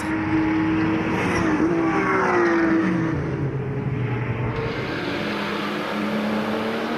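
Porsche race cars at the Nogaro circuit during a ROSCAR race, engines roaring loud and continuous with rising and falling pitch sweeps as cars accelerate, shift and pass.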